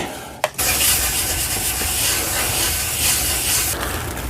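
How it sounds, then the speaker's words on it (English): Flitz polish rubbed onto a Bakelite AK-74 5.45x39 magazine with a paper towel, a close, steady brushing friction after a brief knock at the start. "I rub the flitz in using short circular motions until it's kind of this hazy gray color."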